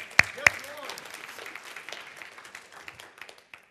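Two sharp claps ring out, then scattered clapping from a church congregation continues and fades over a murmur of voices.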